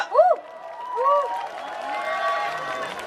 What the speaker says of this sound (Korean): 여러분들 큰 박수로 네 정해 듣도록 하겠습니다.